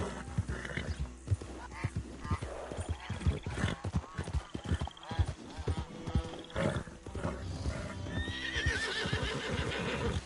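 Horse galloping in Red Dead Redemption 2, with rhythmic hoofbeats, whinnies and someone talking over the game sounds throughout.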